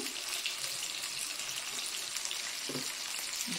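Apollo fish pieces frying in hot oil, a steady hissing sizzle with a few soft bubbling pops, close and continuous with no talking.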